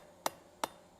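Three crisp, evenly spaced hammer blows ring out alone as a steel hand towel bar is forged, with its corners rounded into a flat section.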